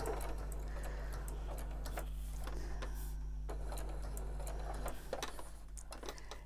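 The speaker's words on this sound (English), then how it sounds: "I'm just going to do a little straight stitch all the way around" A sewing machine runs a straight stitch around a small Christmas tree ornament in white thread, a steady low motor hum with faint rhythmic ticking throughout, close and continuous with no talk.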